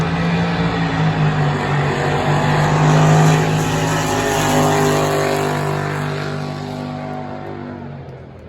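A racing boat engine roars through a boat drag race run at a Boat Nic event. It is loud, dense and continuous, swelling at mid-run and then fading away at the end, with no talk over it.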